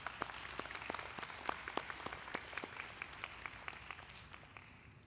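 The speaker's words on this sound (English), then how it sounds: "Let's give him a round of applause." Applause at a biomedical informatics commencement ceremony, a faint, distant crowd clapping with many individual sharp claps in an uneven patter that slowly tapers off.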